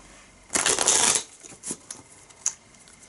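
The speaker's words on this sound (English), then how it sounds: "I'm just going to do one more shuffle." A quick riffle of shuffled tarot cards, a dense papery flutter lasting about half a second, followed by a few softer taps and slides of cards.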